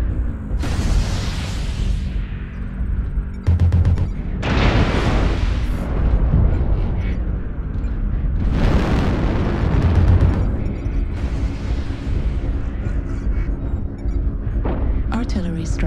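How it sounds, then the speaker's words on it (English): Artillery strike explosions in a first-person shooter video game land as several loud, booming bursts spread across the stretch, separated by quieter gaps of game noise. "Artillery strike online."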